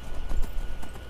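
A horse's hooves clip-clop in Skyrim, a quick run of steady close thuds, heard on their own without talk.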